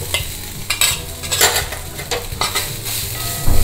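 Cooked rice is stirred with pepper powder in a pan for a South Indian dish. There is steady close scraping and mixing with a light sizzle and occasional utensil knocks, and no talk.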